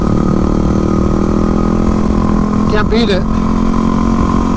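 A Yamaha WR250R fitted with supermoto wheels runs at a steady, loud drone while riding twisty rural roads, the engine note holding constant throughout as a voice speaks briefly over it.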